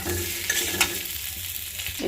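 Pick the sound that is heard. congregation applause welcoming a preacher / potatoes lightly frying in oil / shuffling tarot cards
potatoes lightly frying in oil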